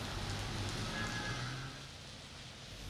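Steady rain falls during a road-safety segment about riding a motorbike in wet weather, a continuous, fairly loud hiss of drops that eases slightly after the midpoint.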